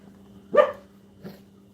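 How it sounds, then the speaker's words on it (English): A dog barks twice in a room, one louder single bark followed by a softer second one, with a low steady hum underneath and no talking. "So you make a note every time Tyrion barks in there"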